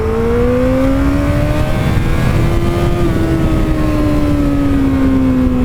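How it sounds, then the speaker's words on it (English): Kawasaki ZX-14R motorcycle accelerating hard in first gear, its engine note climbing steadily in pitch as revs build toward redline, loud and close with no talking. "I want to see how quick this bike can go in first gear."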